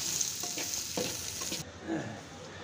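Chopped onions sizzle and hiss steadily in a hot pan as they fry to a deep brown for a vegetable dish, with soft scraping from stirring partway through; close and continuous, no talking.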